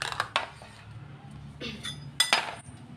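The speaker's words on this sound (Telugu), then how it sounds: "మెత్తగా మిక్స్ చేసుకుందాం." Spoon clinking and scraping in a bowl while aloe vera gel and yogurt hair mask are mixed, a few sharp close taps separated by quieter stirring, soft overall.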